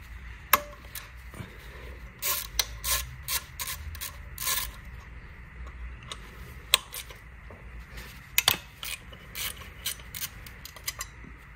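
A ratchet with a 10mm hex socket loosens the bolts holding a metal shield on an engine's EGR cooler, producing irregular bursts of sharp clicking and metallic clanks over a faint background hum.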